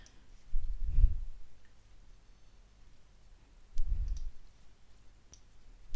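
A computer mouse clicks twice on a CAD block website, two soft, separate clicks about three seconds apart against a quiet background.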